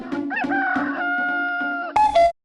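A loud, close rooster crow, a long drawn-out call with a sharp rising finish, heard alone.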